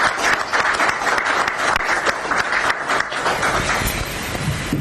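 An audience claps and applauses at a football association event, dense sustained clapping from many hands, fairly loud and continuous throughout.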